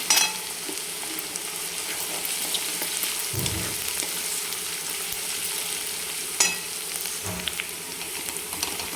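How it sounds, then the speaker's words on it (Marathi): Sliced onion and crushed garlic frying in a pan for a mixed dal with drumsticks, a steady close hiss of sizzling oil with a few soft stirring knocks. "त्याला एक कांद्यासोबतच आपल्याला दोन मिनिट चांगलं तळून घ्यायचं आहे"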